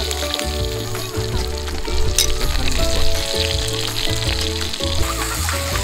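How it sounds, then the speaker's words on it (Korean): Meat sizzling on a grill at a family beach campsite: steady crackling frying hiss close up, with people talking over it. "소리가 너무 좋아, 고기 굽는 소리가."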